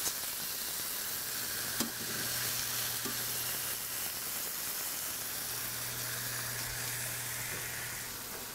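Pork chops frying in a pan, a steady continuous sizzle with low hum underneath, fairly close and unbroken, with no voices.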